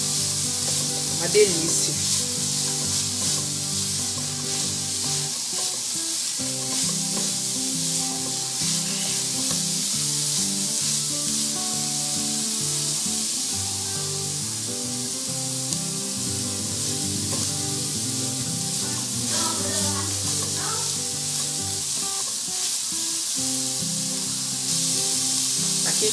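Garlic and onion sizzle steadily as they sauté in a pan, with a continuous hiss and occasional stirring running through the whole stretch under tonal background music, and a voice speaks briefly.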